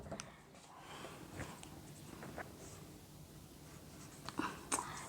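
Faint scratchy strokes of writing on a board during a Hindi grammar class for ninth and tenth graders, a few soft scrapes and taps in a quiet room, low in level with brief sharper marks near the end.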